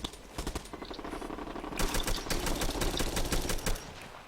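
A placed turret in the shooter game Bullet Run firing rapid automatic bursts, a fast rattling stream of shots that grows louder and denser midway and keeps going.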